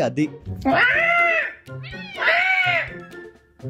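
A cat cries in two long, loud drawn-out meows, close by, with a person briefly speaking at the start.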